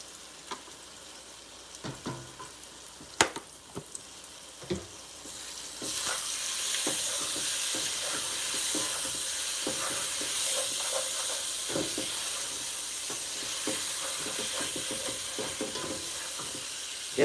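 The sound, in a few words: sausages sizzling in a pan with garlic powder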